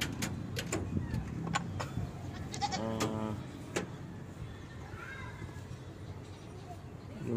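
A goat bleats on a farm, a wavering call near the middle followed by a few fainter bleats, with clattering and background voices around it.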